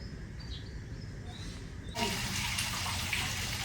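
Water splashes and sloshes steadily as white laundry is scrubbed by hand, starting fainter and turning louder and fuller partway through, with a close, continuous wash of sound.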